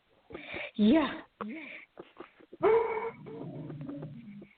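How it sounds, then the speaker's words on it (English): Dog barking and whimpering in the background of a conversation, several short yelping calls that rise and fall in pitch, fairly close, with a person talking briefly in between. "so sorry about the dog massively barking in the background."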